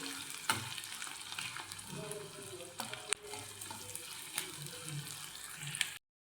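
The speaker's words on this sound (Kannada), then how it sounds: "ಈರುಳ್ಳಿ ಎಲ್ಲ ಎಣ್ಣೆಯಲ್ಲಿ ಬಾಡಿಸ್ಕೊತಾ ಇದ್ದೀನಿ" Onions sautéing in oil in a pan, a steady soft sizzle with occasional stirring clicks and scrapes, quiet and continuous before cutting off abruptly.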